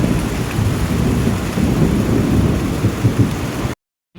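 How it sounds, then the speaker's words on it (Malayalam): Loud steady rain pours down during a storm, with deep rumbling thunder rolling beneath it throughout before cutting off abruptly. "എന്തായാലും മഴ കുറച്ച് നേരം കൂടി ആസ്വദിക്കട്ടെ,"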